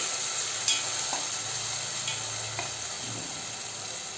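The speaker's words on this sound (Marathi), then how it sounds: "आपला हा मसाला आपण छान तेलामध्ये तेल चांगलं सुटेपर्यंत परतून घेऊया" Onion masala with chopped tomato sautéing in oil for usal, a continuous close sizzle broken by a few spoon scrapes and taps, no speech.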